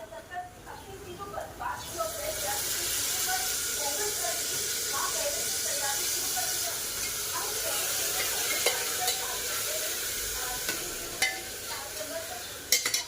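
Tomato paste hits a pan of boiled chickpea masala and sizzles loudly, with spoon stirring and scraping through a steady frying hiss that carries on for several seconds.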